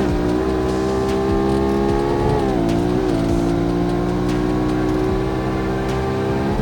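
A Nismo Z-Tune's engine drones loud and close as the car accelerates out of an uphill corner on a race track, pitch dipping briefly at a gear change before climbing steadily again.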